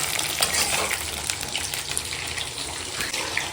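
Eggplant pieces sauté in hot oil in a pan for a fishless fish curry, giving a loud, steady, close sizzle with a bubbling crackle throughout.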